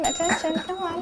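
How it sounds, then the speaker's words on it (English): A small bell rung by a cat sounds steadily in the background while a person talks over it. "that was the cat ringing the bell"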